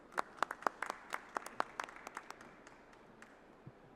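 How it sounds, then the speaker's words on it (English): A small audience at an industry panel on manufacturing claps for the panelists, with distinct, sparse hand claps that thin out and fade to a few scattered claps toward the end. "Let's give them a warm applause."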